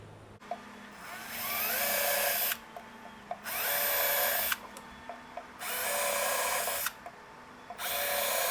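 A power drill whirs in four sustained bursts of about two seconds each, separated by short pauses with light clicks, close and fairly loud.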